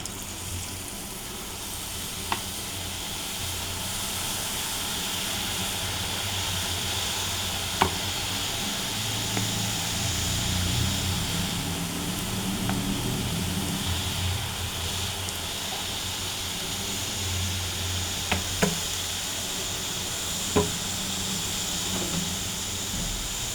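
Chanachur batter drops into hot oil and fries, a soft continuous sizzle and hiss with occasional sharp clicks and taps, steady and moderately quiet, with no talk.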